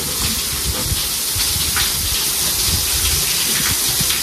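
A burst water heater (geyser) pipe sends water gushing out in a loud, continuous rushing hiss that holds steady throughout, with no speech.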